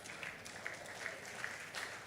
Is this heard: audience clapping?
yes